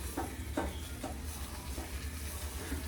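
Curry leaves drop into hot oil in a home cooking pan, giving a steady low-level sizzle and frying hiss with a few soft stirring scrapes, no voices.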